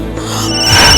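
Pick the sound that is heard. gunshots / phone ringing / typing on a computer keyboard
phone ringing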